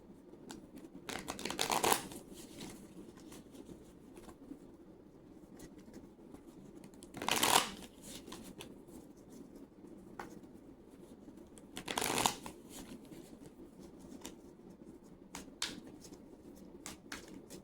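A tarot deck is shuffled close up in three short riffling bursts, separated by long quiet stretches with faint handling rustle.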